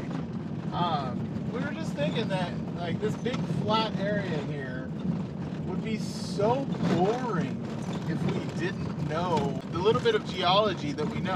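Steady low road noise rumbles from a car driving along a wide flat highway, continuous and moderately loud beneath people talking inside the vehicle.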